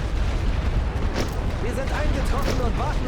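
Artillery fire rumbles through a World War I Western Front trench battle game, a dense sustained roar of blasts with booming impacts layered over the whole span.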